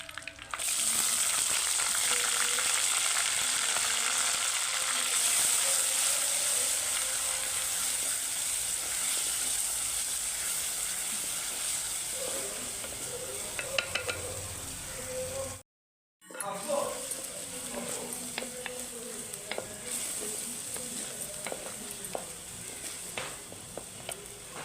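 Chopped onion frying in a pan, a loud, continuous close sizzle with occasional stirring clicks, broken by a short silent gap before the sizzle resumes.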